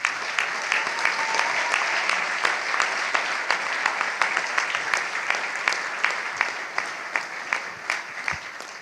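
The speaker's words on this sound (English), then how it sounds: "Now we can applaud." A bushcraft conversation event audience claps together in a dense, even roar that thins toward the end into scattered, individual sharp claps, heard alone without talking.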